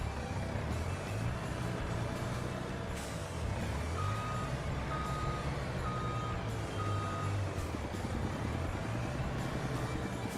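Logging truck in the forestry game Forestry Empire backing up, its reversing alarm beeping in a slow, even series over a continuous low diesel engine rumble, with no talking.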